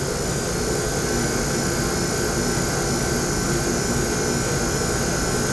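Vacuum pump on a sputter deposition system running steadily, pumping the chamber down from atmospheric pressure, a continuous broadband mechanical roar with a high-pitched whine, loud and unbroken throughout.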